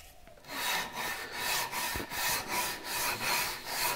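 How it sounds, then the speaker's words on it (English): Wood sanded by hand with a strip of sandpaper pulled back and forth like a file: steady, loud, close rasping strokes in an even rhythm of about two per second. "So then it's just used sort of like a rasp or like a file or like a hacksaw. You can certainly sand that way."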